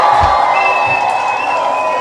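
A large audience cheers and whoops loudly and continuously, a dense steady crowd roar with scattered shouts and a sustained high whistle-like tone running through it.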